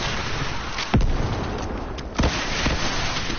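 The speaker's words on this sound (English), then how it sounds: "Oh, the explosion!" Explosions in a Roblox video game: two sharp booming bursts about a second apart over a constant dense wash of game noise, loud and close.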